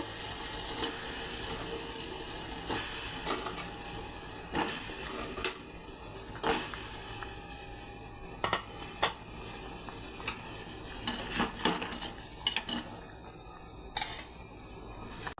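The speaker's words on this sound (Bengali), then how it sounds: "শিরাটা ফুটে গেছে, এখন মিষ্টিগুলো দিয়ে দেব।" Wheat-flour gulab jamun sweets simmer in boiling sugar syrup in a pot, a soft continuous bubbling hiss broken by irregular nearby clinks and scrapes of a utensil against the pan, with no talking.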